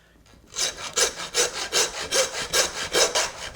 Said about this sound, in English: listening to the sound of the saw, and when the saw note changes, that's when I'm going to stop, because I know I've gone through the bone